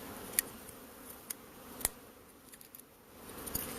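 Honeybees hum around a hive box in a soft, steady drone close by, with occasional sharp ticks and taps standing out over the quiet buzzing.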